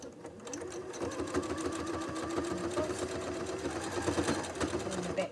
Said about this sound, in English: I'm going to sew that into place.